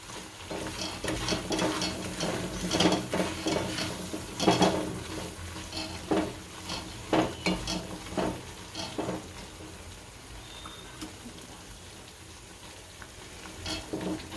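Seeds for gundar paak are stirred in a cooking pan, producing continuous scraping and rattling with metallic taps and a soft sizzle, steady and close before easing toward the end.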